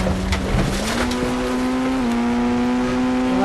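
A car engine runs at a steady idle while being shifted into reverse gear, its hum stepping up slightly in pitch partway through, close and fairly loud with no talking.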